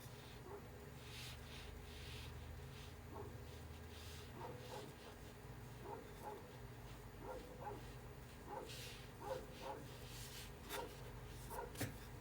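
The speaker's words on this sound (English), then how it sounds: "it's gonna be a bark fest" Dogs barking repeatedly at farm hands arriving outside by a fence, a steady string of yips and barks at moderate distance over a constant low background hum.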